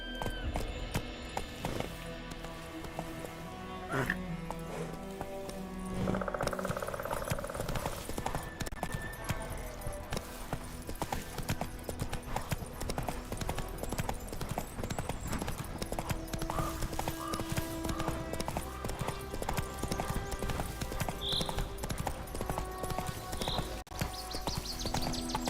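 Hooves of Roach, the horse in the video game The Witcher 3: Wild Hunt, pound in a fast, continuous gallop, with mechanical clatter and a short whinny woven into the busy game soundscape.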